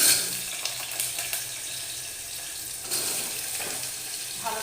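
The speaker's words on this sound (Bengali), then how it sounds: "এরপর আমি দিয়ে দেব কেটে ধুয়ে রাখা আলুর টুকরোগুলো।" Washed, cut potato pieces go into a hot frying pan with oil and a dried chili, giving a loud, steady hiss and sizzle with a few brief crackles, close by.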